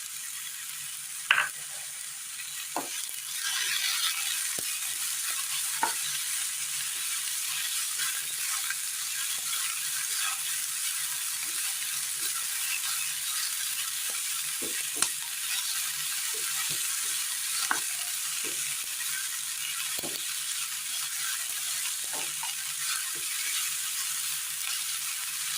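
Chopped tomatoes and capsicum fry in a pan with a constant bright sizzle, broken by scattered clicks and taps from a stirring spoon at irregular intervals.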